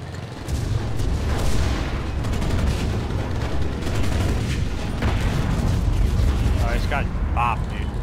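Tank cannons boom repeatedly in the World War II shooter game Enlisted, dense heavy blasts and gunfire layered over a constant battlefield roar, with voices talking over the din near the end.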